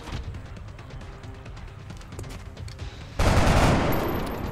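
Gunfire from a soldier firing in XCOM Enemy Within, a steady crackle of shots that swells into a loud, dense burst near the end.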